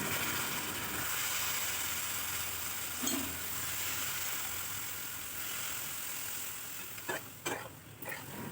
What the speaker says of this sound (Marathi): त्यामध्ये आपण आता भिजवलेले मुरमुरे टाकायचे आहेत.